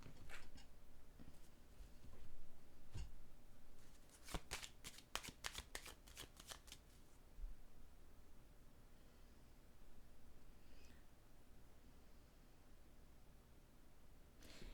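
A deck of tarot-style cards riffled and shuffled nearby, faint and soft, with a dense burst of crisp card flutters in the middle of otherwise quiet room noise.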